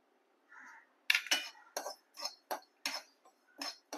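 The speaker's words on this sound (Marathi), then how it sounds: "बडीशेप, धणे, जिरं आणि मेथी हे सगळं भाजायचंय" Fennel, coriander, cumin and fenugreek seeds dry-roasting in a pan, stirred in a string of short, close scraping and rattling bursts with brief quiet gaps between them. No one speaks.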